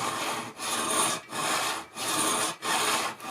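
Long, deliberate file strokes across brass, close and loud, about five evenly paced passes with brief pauses between them, for a model railway turnout.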